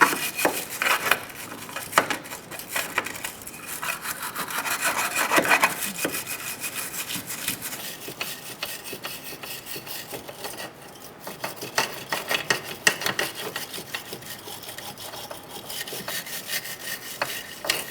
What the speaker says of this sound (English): We're going to clean off our surfaces before installing our new control arm.